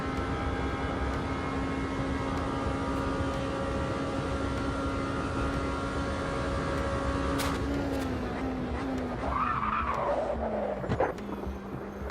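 Race car in the sim racing game AMS2 with flat-spotted, overheating tyres, a steady engine drone joined late by a brief tyre squeal and skid with a falling engine pitch, moderately loud and continuous, no talking.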